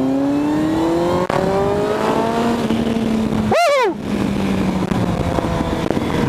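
A 2000 Yamaha R1 1000cc sport motorcycle accelerates hard, its loud engine climbing in pitch through the gears, with a brief cut during a shift before it rises again, heard close and without speech.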